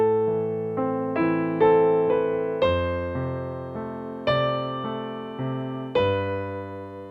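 A solo piano plays a slow passage, clear and close, with notes and chords struck one after another as each new attack rings and fades.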